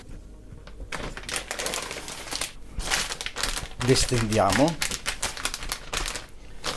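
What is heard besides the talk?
potatoes being put into a plastic sous vide bag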